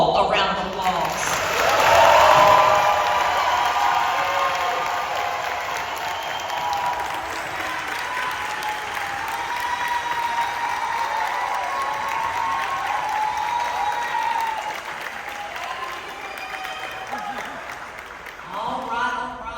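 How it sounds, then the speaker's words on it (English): Sustained audience applause at a middle school graduation ceremony, a loud burst of clapping that swells early then holds steady through to the end. "Let's give them all a round of applause."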